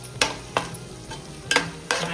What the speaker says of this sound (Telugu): అల్లం వెల్లుల్లి పేస్ట్ పచ్చి వాసన పోయేంత వరకు వేయించుకోవాలి